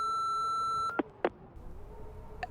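Voicemail tone in the video game Remothered: Broken Porcelain: a steady electronic beep that cuts off, followed by a few short clicks and a faint later blip.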